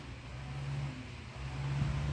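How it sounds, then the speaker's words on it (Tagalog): A steady low machine engine drone hums continuously at moderate loudness, running without pause, outdoors in the rain. "Matindi talaga yung ingay ng makina."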